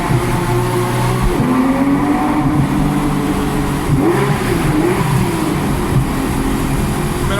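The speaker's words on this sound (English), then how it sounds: "just making our exhaust go louder" A Porsche engine and exhaust drones and revs continuously at close range in a tunnel, pitch rising and falling with acceleration, loud and reverberant.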